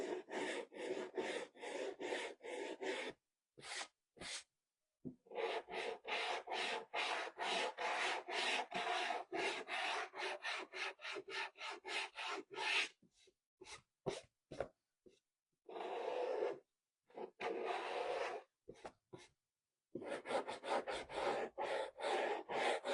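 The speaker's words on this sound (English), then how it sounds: "Now let's sand it back a little." Paint on a vintage truck is sanded by hand in quick, rhythmic rasping strokes, close and clear, coming in bursts separated by short pauses.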